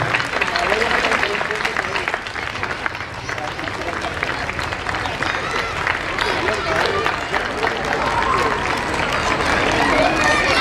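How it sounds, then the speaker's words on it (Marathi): An audience claps loudly and continuously for teachers at a centenary celebration of a gymnasium, a dense, even wash of applause with crowd murmur throughout. "एकदा जोरदार टाळ्या होऊन दे या सर्व शिक्षकांसाठी"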